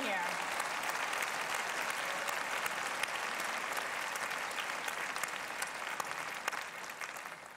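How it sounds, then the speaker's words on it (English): Sustained audience applause fills a Broadway launch party, dense clapping steady and loud throughout with a bit of crowd noise underneath. "let's give another round of applause to Maggie Kanzler."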